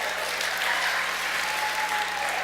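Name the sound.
audience clapping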